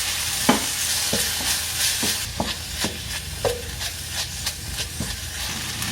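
Cabbage stir-frying in a hot pan with gochujang chili paste, a steady sizzle and hiss broken by repeated scraping clatters of a utensil tossing the vegetables, close and moderately loud.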